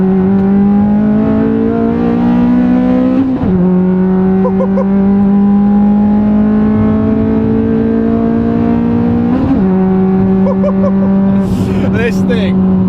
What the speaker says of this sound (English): It revs so quick now because of the flywheel.